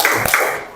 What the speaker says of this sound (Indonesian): Kasih tepuk wow untuk semuanya. 1 kali tepuk wow.